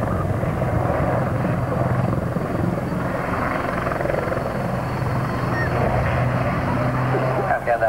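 Lynx helicopter at a 1992 Humberside air show, a loud continuous rotor and engine drone with a steady low hum that holds throughout, close and unbroken.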